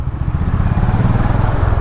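A Honda H'ness motorcycle idles in a traffic jam, its single engine throbbing loud and close in a steady, even rhythm.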